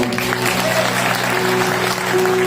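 A church congregation at a Sunday service applauds together, a brief, dense wash of clapping heard up close, with a steady tonal hum from the sound system running beneath it.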